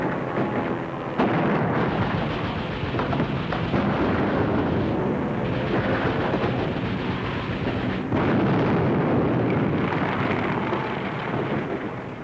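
A hand grenade explodes inside a powder house, and a continuous roaring, rumbling blast fills the whole stretch with dense, loud crackling and thundering bursts and no speech.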